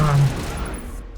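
Sniper rifle fire in a video game, a heavy boom at the start followed by a rumbling low tail that fades over about a second, with a faint voice underneath.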